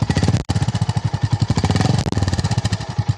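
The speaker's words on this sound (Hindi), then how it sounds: "एक बार गाड़ी ऑन कीजिए मैं आपको इसका एग्जॉस्ट का साउंड आपको सुनाता हूँ" A 2024 Honda H'ness CB350 motorcycle idles in neutral with a steady, lumpy exhaust burble, close and loud, the rhythmic pulses continuing throughout with a brief dip near the start.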